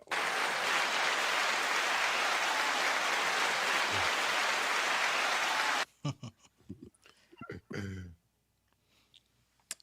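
Applause from a live audience at a hip hop culture talk show rises at once into dense, sustained clapping for about six seconds, then cuts off into brief scattered noises and a little talk.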